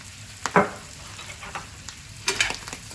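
Chopped vegetables and parsley sweat gently in a pan, giving a soft, steady sizzle broken by a few sharper crackles and stirring scrapes, close up with no talk.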